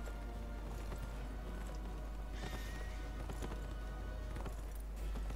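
Horse hooves clip-clop steadily in Neverwinter, a continuous rhythmic trot of moderate loudness over a constant low hum, with a faint snort partway through.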